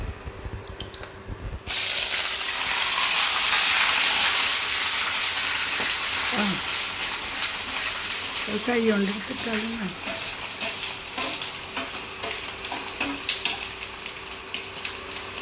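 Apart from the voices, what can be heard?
fish roe (palinjeen) frying in a pan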